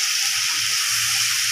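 Oil sizzling in a pan, a steady close hiss that stays even and fairly loud throughout, with no voices over it.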